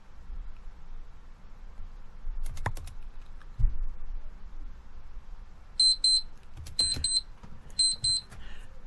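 A timer alarm going off in a Minecraft game: three short bursts of high electronic beeping near the end, over faint clicking and low background noise, with no speech.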